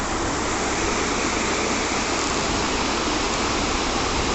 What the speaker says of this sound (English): So I think this river water is flowing to the falls